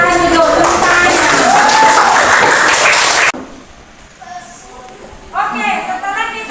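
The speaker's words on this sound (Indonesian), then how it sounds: "Silakan duduk, tepuk tangannya." A classroom group claps together during a teacher-training session, a dense burst of applause under a talking voice for about three seconds before it cuts off to quiet room tone and speech returns.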